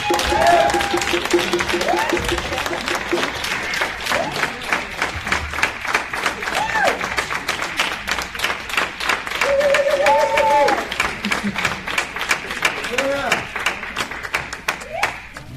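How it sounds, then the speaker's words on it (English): A standing crowd at a Kwanzaa celebration applauds a young man called up front, with dense clapping that runs steadily throughout, while voices and cheers rise above it at intervals. "Can everyone stand up and please give this young man a round of applause?"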